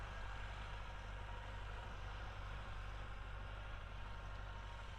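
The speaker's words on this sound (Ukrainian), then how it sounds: "а культивацію робимо трактором Т-40. Такий він кремезний, потужний, їде, працює." A T-40 tractor cultivates a watermelon field, its engine a steady, faint, low drone that holds an even pace from start to finish with no voices over it.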